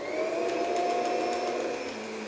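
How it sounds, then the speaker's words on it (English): A Kirby vacuum cleaner motor runs loud and steady at close range while its height is lowered, a whining drone with a slight shift in pitch as it goes, and no talking. "The Kirby automatically tells you a little sound change in the motor."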